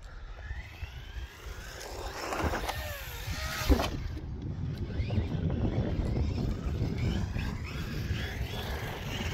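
A Rlaarlo ROG1 small RC car drives outdoors with a steady whining motor, its pitch rising and falling with throttle, and a sharper thump partway through as it lands a jump.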